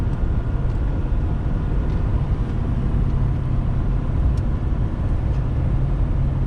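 A 2021 Ford F450 truck tows a trailer at highway speed up a grade in ninth gear, giving a loud, steady cabin rumble of engine and road noise without a break.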